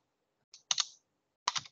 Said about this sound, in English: here I need to type the host